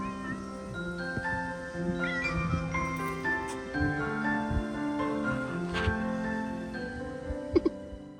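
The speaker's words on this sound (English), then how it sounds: "Hello, Kitty." A cat meows indoors, giving a string of drawn-out, wavering cries of changing pitch, some stretching into a caterwaul, fairly close and heard alone without talk.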